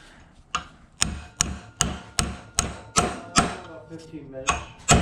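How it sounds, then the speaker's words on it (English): Hammer pounding on a twisted hood hinge of a 1939 Ford hot rod, about a dozen sharp metallic blows in a steady, evenly spaced rhythm, close and fairly loud with no talking. "So we gotta probably actually pound in there"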